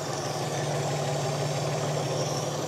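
A 1959 Chevrolet Biscayne's 235 six-cylinder engine idles in a steady, even rumble at close range. The engine runs uninterrupted throughout, with no talking.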